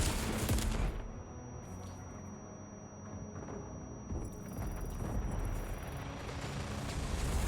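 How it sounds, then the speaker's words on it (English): In the video game Death Stranding 2, grenade launchers fire loud blasts in quick bursts, each one rumbling off into a dense wash of explosion noise that goes on without a break. No one talks. "Some grenade launchers."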